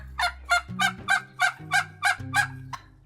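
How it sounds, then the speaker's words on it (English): Wild turkey gobbling close by, a rapid series of about nine sharp rattling gobble pulses over a low steady drone, loud and alone. "One species that has benefited from closer study of the females is the wild turkey."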